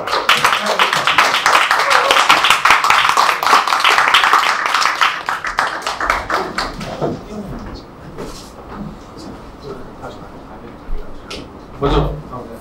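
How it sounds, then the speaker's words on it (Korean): Dense clapping from a forum audience welcoming panelists onto the stage, loud and steady for about six seconds, then thinning into scattered claps and room murmur with a brief burst near the end. "그러면 이제 저희 오늘의 패널리스트 분들을 모시도록 하겠습니다. 큰 박수로 맞아주시기 바랍니다."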